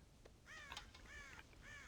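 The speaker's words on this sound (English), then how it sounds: "God damn crows!" Several crows in the video game Red Dead Redemption caw in three harsh, raspy bursts at moderate distance over a low background hum.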